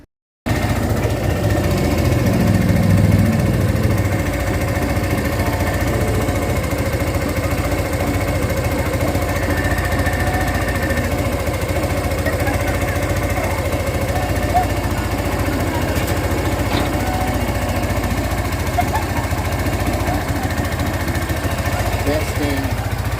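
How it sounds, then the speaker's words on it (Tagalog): A Barako 3 motorcycle engine runs steadily nearby for the whole stretch, a continuous buzzing rumble with a rattling, jackhammer-like vibration from a loose chain, and someone talks faintly in the background. "Pumibidik lang kasi medyo maluwag yung kadena"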